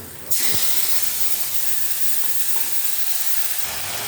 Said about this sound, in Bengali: কালো জিরে ফোড়ন দিলাম, একটু কালো জিরে ফোড়ন দিলাম।